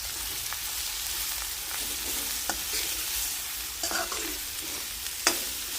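Bitter gourd sabzi being stirred as it fries in a pan, a steady close sizzle broken by scattered scrapes and clicks of the spoon against the pan.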